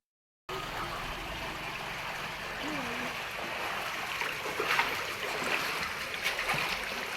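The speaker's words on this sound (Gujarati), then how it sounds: "પાણીની લાઇનમાં ભંગાણ થતાં લાખો લીટર પાણીનો વેડફાટ થયો" A burst drinking-water pipeline in Padargadh village near Talaja gushes water with a steady, loud broadband rush that holds throughout, and a faint voice surfaces briefly partway through.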